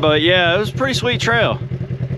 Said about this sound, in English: here comes a guy on a four-wheeler